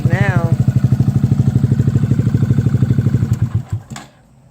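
A Honda Grom motorcycle fitted with an M4 exhaust and its baffle removed, idling close by with a loud, rapid, even thumping pulse before the engine cuts off and the sound dies away.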